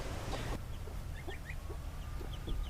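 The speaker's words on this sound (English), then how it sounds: "I did move one of the broody girls with her chicks and gosling into the silky" A broody hen in a silkie coop with her chicks and a gosling, giving soft repeated clucks, with faint high chick peeps scattered throughout, close and fairly quiet.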